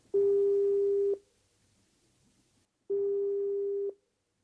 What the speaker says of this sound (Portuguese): Nesse momento, estamos tentando falar com Amílcar Gonçalves.